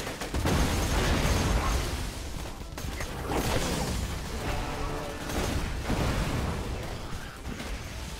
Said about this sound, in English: I think their dead bodies explode too